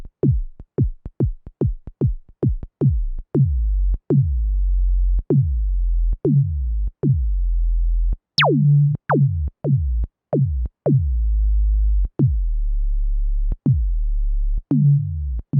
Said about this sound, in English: if you find a sweet spot, then you have these nice sub-bass kicks like this